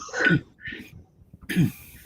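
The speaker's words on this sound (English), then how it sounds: "Clear your throat" A man clears his throat twice on a live morning chat, each a harsh, close rasp with a brief pause between them.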